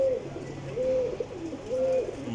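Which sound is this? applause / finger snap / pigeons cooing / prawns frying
pigeons cooing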